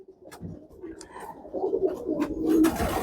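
Pigeons kept with newly hatched squabs coo in low, throaty murmurs, rising louder toward the end of the stretch, with faint chirps and rustling mixed in.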